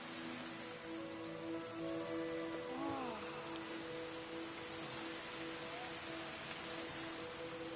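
A heavy downpour heard as a faint, steady, even hiss throughout, with a brief sweeping tone partway through.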